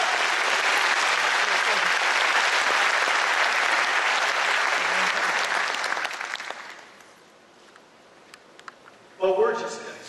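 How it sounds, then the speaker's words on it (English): Sustained applause from a large conference audience at the Intel forum during Computex Taipei 2012 fills the first six seconds, then fades away to near quiet before a brief burst of louder sound at the end. "Please give yourself a big round of applause."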